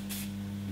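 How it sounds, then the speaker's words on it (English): A single short burst of heat protector spray hits a section of hair, a quick close hiss over a faint steady hum, with a second softer puff at the very end. "we're going to use our heat protector spray and spray the section"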